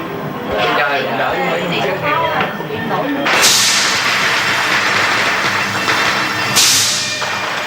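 Firecrackers explode through a city during the Tet festival, with two sudden loud crackling bursts ringing out over a steady murmur of crowd voices.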